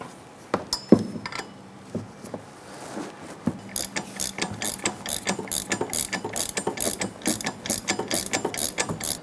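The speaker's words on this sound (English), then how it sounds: "we're gonna use an 18 millimeter socket to go ahead and snug that down" A ratchet with an 18 mm socket snugs down the front shock absorber nut on a 2002-2008 Dodge Ram 1500, a few isolated clicks and then a long run of rapid, close ratcheting clicks.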